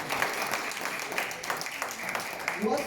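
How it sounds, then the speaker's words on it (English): Audience applause at a gathering addressed to Nigerians in the diaspora, a steady wash of clapping from a crowd at moderate level with speech mixed in. "Please clap very well."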